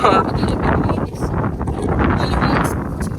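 Steady wind buffets the microphone with a rough, constant roar while people talk over it outside a single-story house.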